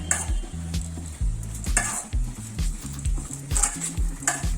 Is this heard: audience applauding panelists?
no